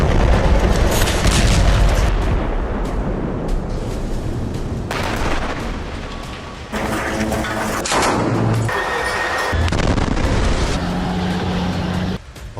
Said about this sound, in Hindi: इजरायली सेना की बमबारी के बीच